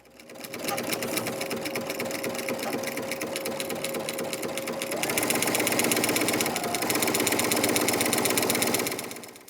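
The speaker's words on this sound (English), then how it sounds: "we're going to just sew down that long edge with a 1/4 inch seam" A domestic sewing machine stitches a quarter-inch seam down the long edge of a folded quilting fabric panel, running with a fast, steady mechanical whir and chatter that speeds up partway through, then stops.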